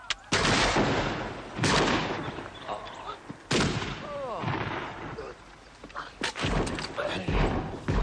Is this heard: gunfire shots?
yes